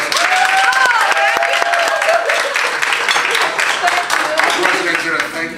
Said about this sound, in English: Can we have a round of applause for our president?